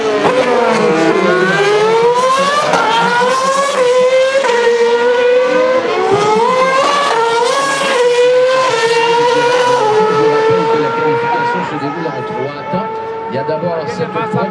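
Formula 1 cars screaming around the 2013 Montreal qualifying session, several high-pitched engines rising and falling through gear changes, loud and continuous with overlapping passes and a commentator-like voice layered beneath.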